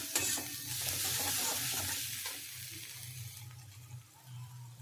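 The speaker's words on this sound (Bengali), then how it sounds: "খুব ভালো করে আমি এটাকে কষিয়ে নেব মশলার কাঁচা গন্ধটা যাতে চলে যায়" A spice masala with cumin and Kashmiri chili powder is sautéing in a pan, making a soft, steady sizzle with faint stirring scrapes that ease off toward the end.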